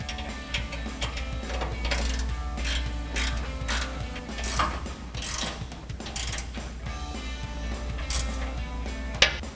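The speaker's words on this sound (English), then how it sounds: "I'm switching to a 13mm ratcheting wrench" A 13mm ratcheting wrench clicks in rapid bursts while tightening rear bumper bolts on a Tacoma pickup, the pawl ratcheting loud and close in uneven strokes with brief pauses, and no speech.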